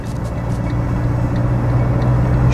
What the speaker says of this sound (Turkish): 3'ten direkt arkaya doğru çekiyorum ve 4. vitese geçiş sağlıyorum.